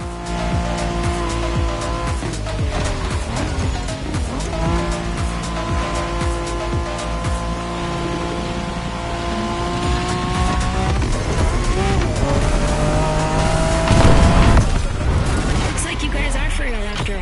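Race cars roar through a race in The Crew Motorfest, engines droning and shifting pitch throughout with tires squealing and skidding, loud and continuous, while a voice talks over the action.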